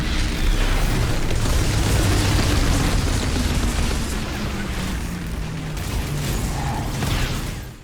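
Outriders video game gunfire from Twisted Rounds ability combos: a dense, continuous roar of rapid shots and blasts that holds loud through most of the stretch, easing slightly midway before surging again.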